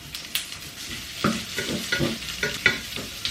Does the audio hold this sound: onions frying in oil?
yes